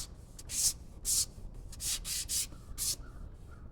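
Sandpaper rubbed by hand in short, bursty strokes, about eight distinct scratchy swipes in an uneven rhythm, close and fairly faint, with no talking.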